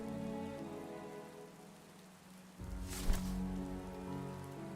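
Steady rain falls in the video game Punishing Gray Raven, a dense continuous patter that swells louder partway through with a brief splash-like burst, with no voices.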